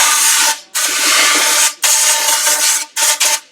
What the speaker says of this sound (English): Blow this out with some air.